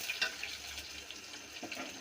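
Chopped onion hitting hot oil in a home kitchen pan, a steady hissing sizzle with a few brighter crackles early on, moderately close and continuing without talk.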